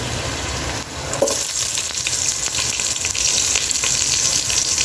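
Jackfruit fries in hot oil with a loud, close, crackling sizzle that flares after a brief stir and then holds steady, with no voices.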